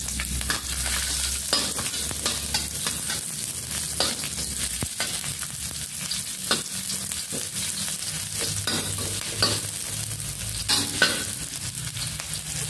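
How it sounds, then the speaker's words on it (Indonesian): Sliced shallots fry in hot oil, a loud, continuous sizzle with repeated stirring scrapes and crackles throughout, no voices. "saya sudah menaruh minyak di sini ya, teman-teman. Nah, saya mau memasukkan irisan bawang merah"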